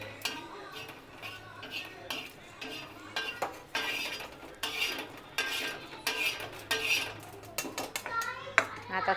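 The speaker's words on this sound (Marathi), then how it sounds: "आता थोडंसं बाजरीचं पीठ भाजून घेते" Spoon scraping and clinking in a pan while pearl millet flour is roasted, a run of irregular metallic stirring strokes close by, with children's voices in the background.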